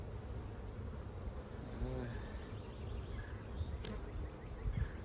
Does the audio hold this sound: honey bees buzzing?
yes